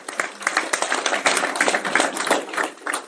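Scattered, uneven clapping from a small audience at a live recording of a wealth-building meeting rises and falls over a few seconds, with individual hand claps clearly separate rather than a dense roar.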